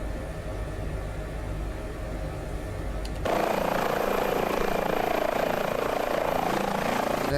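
Airbus H145 helicopter in Microsoft Flight Simulator on an air ambulance flight: a steady engine whine and rotor noise that jumps sharply louder partway through and then holds as a constant drone.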